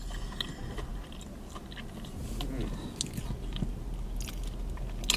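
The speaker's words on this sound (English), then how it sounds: "Literally, it sounds like I'm chewing on some candy." Close, crunchy chewing of a McDonald's dessert such as a cinnamon roll, apple fritter or blueberry muffin, with repeated bites and crisp crackles over a soft background hum.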